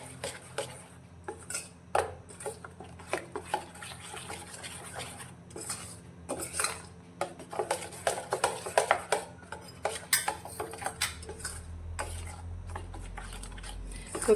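A spoon stirs salt and oil into moong dal and wheat flour in a steel bowl, giving irregular close scraping and clinking taps with quiet gaps between them.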